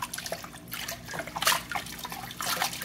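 A knitted bag is pushed and squeezed in a basin of water ahead of felting, making close, intermittent sloshes, trickles and drips.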